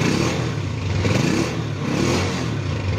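A motorcycle engine runs and revs steadily up close after a digital panel is wired to the stator, a rough mid-pitched drone with slight swells in speed and a faint mechanical clatter.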